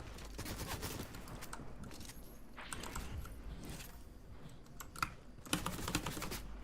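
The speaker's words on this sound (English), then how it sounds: "Stop shooting at me!" Rapid video game gunfire, faint and in scattered bursts of sharp clicking pops, with a few louder shots near the end.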